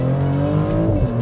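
A Maserati GT engine revs hard as its turbo builds boost, a loud, sustained, rising engine tone that holds steady for just over a second with no talking over it.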